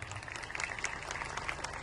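A crowd claps at an outdoor village primary school's 75th anniversary function, a short, dense, steady burst of applause from many hands with no voices over it.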